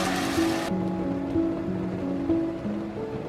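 Egg whites thinned with a little water sizzle in a hot pan, a steady close crackling hiss with faint kitchen hum underneath.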